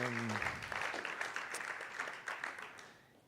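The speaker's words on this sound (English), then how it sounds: "One more round of applause for Margaret and SWANEE and Jillian and Andr" An audience applauds at a university summer writing program anniversary gathering, a steady wash of clapping that follows a brief voice and gradually fades away.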